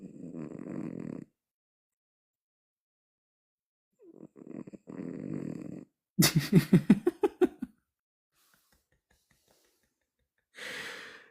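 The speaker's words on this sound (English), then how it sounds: "There's 70 people listening to this cat snore" A sleeping cat snores in loud, rhythmic bursts, each snore a raspy rumbling breath separated by silent pauses, close to the microphone, with a short snorting flutter in the middle.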